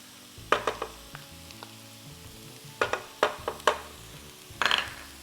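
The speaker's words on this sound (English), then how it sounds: "Gonna just kind of saute that for a little bit." Vegetables and garlic paste sautéing in a pan for jambalaya, with a light sizzle under a series of sharp spoon-against-pan scrapes and taps, grouped in bursts, close-up with no talk.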